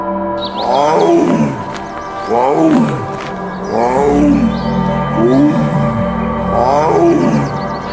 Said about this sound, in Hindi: देखो, जंगल के अंदर वो दो बाघ कैसे दहड़ते हुए जा रहे हैं।